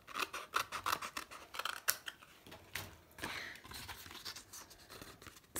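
Scissors trimming a strip of paper or card while building a concertina index box, with repeated crisp snipping cuts in quick succession, close up and moderately loud, no talking.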